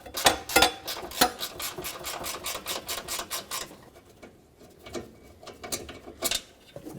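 Ratchet wrench clicking as 10mm AC condenser mounting bolts are loosened on a 1996-2002 Toyota 4Runner, rapid close ratcheting bursts followed by sparser clicks and handling noises, no talk.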